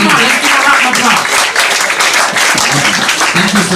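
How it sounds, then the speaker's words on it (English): A comedy club audience applauds and cheers in a dense, steady wash of clapping, with some voices mixed into the crowd noise. "Come on, let's give a round of applause."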